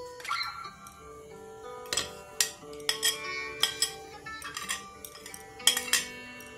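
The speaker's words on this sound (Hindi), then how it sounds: "अब इसमें बीट रूट डाल देंगे।" Beetroot tipped into a bowl of smooth batter, with metal spoon and bowl clinks and taps ringing out in scattered bursts, close by and without speech.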